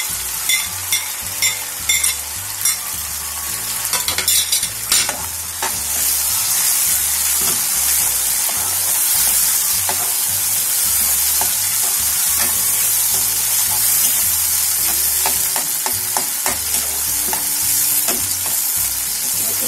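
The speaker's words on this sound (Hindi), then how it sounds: "ये हमारा मसाला भून गया" Spice masala mixed with yogurt fries and sizzles in a pan, a continuous loud hiss with bursts of stirring and scraping, no talking.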